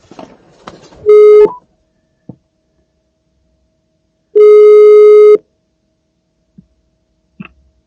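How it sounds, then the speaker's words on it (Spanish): Telephone call signal heard while dialing airport control in Zurich, two loud steady tones, one short and one longer with silence between, plus faint clicks from the handset nearby. "Ahora voy a llamar por teléfono a ver lo que me dicen."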